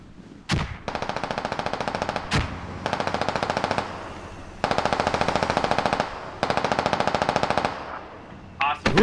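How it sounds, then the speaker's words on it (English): Automatic gunfire in the game Squad, several long bursts of rapid machine-gun fire in close succession, loud and near, separated by short pauses with single sharper shots between. "Who are they shooting at?"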